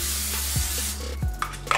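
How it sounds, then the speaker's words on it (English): Short, soft bursts of cooking spray hissing against parchment paper close by, with light rustling and a few faint clunks between them. "I'm gonna go ahead and spray the parchment"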